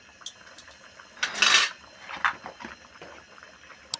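A pot of mutton bone soup is stirred after twenty minutes of boiling, giving a few soft clinks and one brief, louder burst of ladle scraping against the pot, with no voices.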